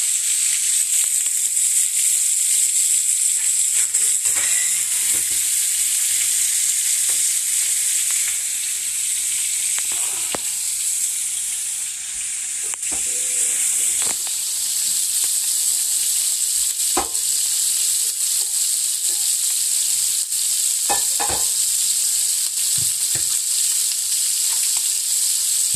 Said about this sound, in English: Let's strain out our pasta.